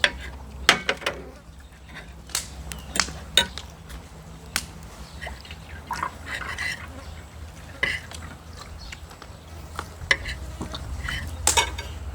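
Shrimp curry paste with stink beans and basil stir-fried in a pan, with clanking spatula scrapes and metallic taps against the pan over a steady low sizzle, close and irregular.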